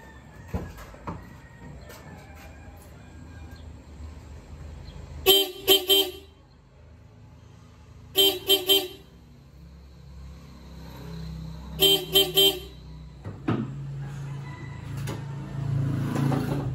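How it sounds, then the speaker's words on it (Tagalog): A Kia Sportage's stock car horn honks in three short bursts, each a quick double or triple toot, spaced a few seconds apart over a low idling engine. "Pakinggan muna natin yung stock horn niya kung ano yung tunog"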